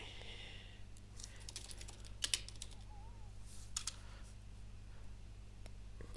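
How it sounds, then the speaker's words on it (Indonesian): Computer keyboard typing sounds faintly over a steady low hum, with a few sparse, sharper clicks standing out now and then rather than a continuous run of keystrokes. "suara keyboard"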